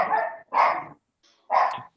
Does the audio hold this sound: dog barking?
yes